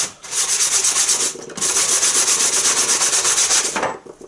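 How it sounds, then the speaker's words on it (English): Hand sanding of a small wooden part: loud, close, continuous rasping strokes in two long bursts with a brief pause near the middle, and no voices. "I'm going to give that a quick sand."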